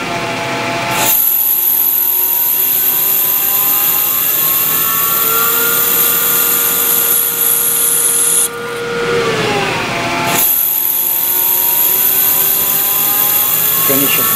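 A lathe cutting a small back chamfer on a flanged part with a parting blade gives a loud, steady machining whine with sliding tonal lines that stops briefly and then resumes.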